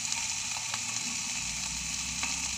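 Ginger garlic paste sizzles and fries in a hot pan for a chilli chicken fry, giving a steady, fairly quiet crackle with a few faint pops and no talking.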